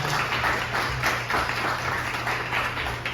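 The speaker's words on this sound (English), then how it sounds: "We can give him a round of applause." An audience at a civic gathering gives a round of applause, a dense, moderately loud patter of clapping that continues steadily throughout.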